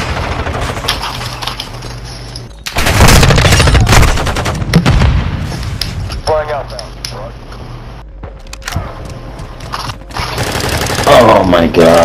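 Rapid automatic fire from an M4 assault rifle in Modern Warfare 2 comes in loud bursts, separated by quieter gaps with game sounds and radio-style voice lines.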